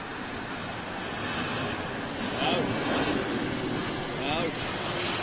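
An airliner arriving at London Heathrow Airport produces a continuous engine roar that swells gently as it passes, with faint voices in the background.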